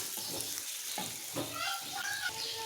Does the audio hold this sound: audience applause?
no